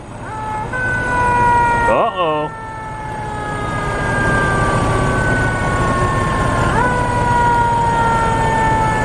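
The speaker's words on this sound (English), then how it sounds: "you can see that there's fire trucks assembling over there" Fire truck sirens wail out on the prairie, their rising and falling tones drawn out and fairly loud in the distance while the trucks gather. A brief voice cuts in near the start.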